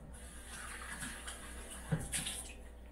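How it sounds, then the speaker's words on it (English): Water running briefly through the group head of a Breville espresso machine for cleaning, a faint, steady trickling hiss with a small clunk near the end and no talk. "I'll clean the head, the group head, run some water in it, just for a couple seconds, just to get things out"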